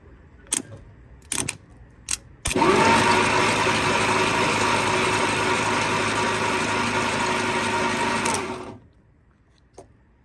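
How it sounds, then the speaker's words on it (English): An old 6-volt engine starter, fed 12 volts, cranks in one loud, continuous whirring run of about six seconds after a few clicks and taps, then stops abruptly. "I'm just gonna try to jump the starter with 12 volts"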